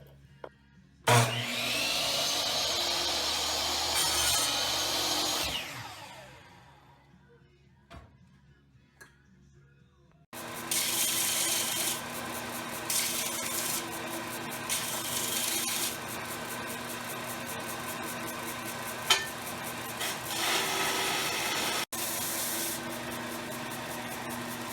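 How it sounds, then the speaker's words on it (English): Wooden planner clips get their edges sanded smooth in a workshop with a loud power sander that whines steadily. A quieter stretch of scraping sits in the middle, and the sanding stays close and continuous. "me in his workshop sanding all the edges nice and smooth"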